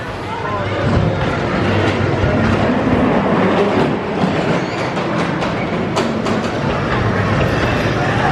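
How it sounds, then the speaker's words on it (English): Ghost Train ride cars rumble and clatter along the track at Blackpool Pleasure Beach, a steady, dense, loud roar lasting throughout, with people talking over it. "We've just come off the Ghost Train."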